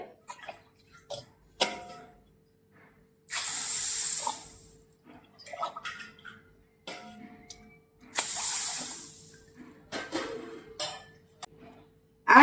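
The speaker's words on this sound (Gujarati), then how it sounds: "3 ગ્લાસ પાણી ઉમેરવાનું છે." Water is poured over mung beans in two separate bursts of splashing, each lasting a couple of seconds, with quiet clinks and taps of a vessel between them.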